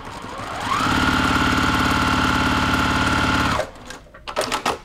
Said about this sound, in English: And I'm gonna just sew these.